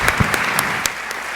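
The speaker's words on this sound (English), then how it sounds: "So another round of applause as they exit the stage." Audience applause at a special event on the opioid epidemic, a dense steady clatter of clapping hands that carries on throughout, with a few sharper claps standing out.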